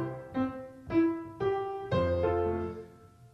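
A piano plays a song: a few rolling chords struck one after another, building to fuller bass-heavy chords that ring out and fade, with no voice.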